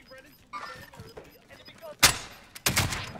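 Gunfire in the video game Warzone: two loud, sharp bursts of shots in the second half, following quieter scattered clicks and thuds, with players talking over it.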